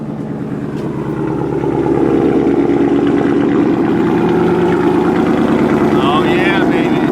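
A Ford F150 truck running on a freshly installed new engine gives a steady, loud, low rumble that swells after the first second and holds throughout, with people talking over it.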